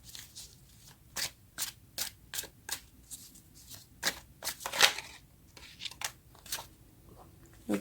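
Tarot cards shuffled by hand, a run of quick crisp riffles and slaps in a steady rhythm, close and fairly quiet.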